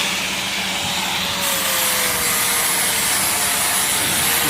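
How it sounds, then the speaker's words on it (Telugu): A grinder taking rust off a vehicle chassis, making a loud, steady, unbroken abrasive whir that holds throughout with no talking. "గ్రైండింగ్ కొడితే మొత్తం రస్ట్ అనేది వెళ్ళిపోతుంది"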